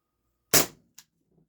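A single sharp, loud pop from a Walther PDP Compact airgun firing an aluminum ball, heard alone against silence, followed by a faint metallic tick and a soft impact.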